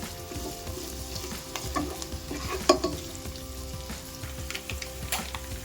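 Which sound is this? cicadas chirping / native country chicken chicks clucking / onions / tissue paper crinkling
onions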